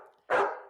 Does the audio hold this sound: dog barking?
yes